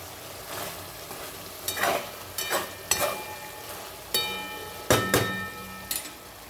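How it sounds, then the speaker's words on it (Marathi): Mutton sizzles while being stirred in a pan, a soft continuous fry punctuated by several sharp scraping and clinking strokes from a utensil, close but fairly quiet, with no talking. "तिकडं मटणाचा आवाज येतो मस्त"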